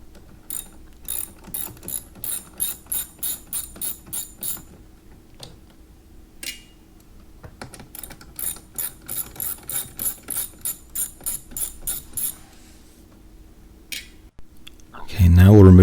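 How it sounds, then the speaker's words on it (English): A hand ratchet clicks in quick repeated bursts while backing out screws on the cabin air filter housing of a 2006-2013 BMW 328i E90, loud and close, with pauses between runs and brief talk. "Okay, now we'll remove the front 2 screws."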